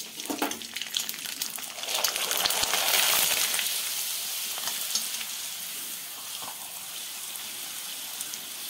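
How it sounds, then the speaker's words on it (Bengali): Homemade rice papad frying in hot oil gives a steady close sizzle that swells briefly as the wafer puffs up, then settles into a constant bubbling hiss. "আর একটা আপনাদের আমি ভেজে দেখাচ্ছি।"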